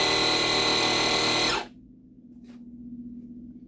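A Metabo AK 18 Multi cordless compressor runs with a loud, steady high-pitched motor whine, then cuts off abruptly after about a second and a half, leaving a faint low hum.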